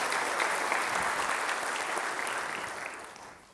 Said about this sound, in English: let's give everyone in Cal State Long Beach a big round of applause for this project